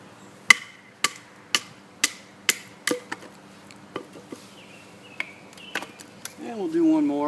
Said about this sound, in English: Not only are we batoning through wood, but this is a pretty old stump.